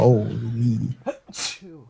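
A single sharp sneeze bursts out after a brief stretch of a person talking, followed by more speech.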